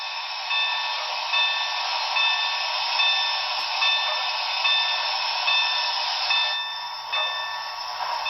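Bell of a Broadway Limited C&O L-1 Hudson model steam locomotive with Paragon 3 sound, ringing in a steady repeated rhythm, close and fairly loud over a constant hiss with no talking.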